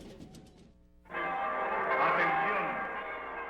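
Church bells ring out loud and sustained, with bright overlapping tones after a brief moment of a voice.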